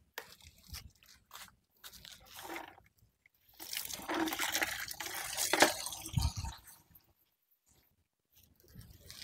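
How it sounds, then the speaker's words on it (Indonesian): Soft trickling and splashing of water poured in uneven bursts over a Premna microphylla bonsai, fairly quiet, with gaps of near silence before and after. "Oke, kita siram dulu ya."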